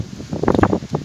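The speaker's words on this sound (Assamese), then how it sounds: "চাওক কিমান ডাঙৰকৈ বতাহ মাৰিছে" Strong wind gusts buffet an outdoor microphone in a short, rough, rumbling burst just before rain, with no voices.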